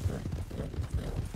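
Horse hooves galloping in Red Dead Redemption 2, a steady low drumming of clip-clop beats running under an undercurrent of shouted voices.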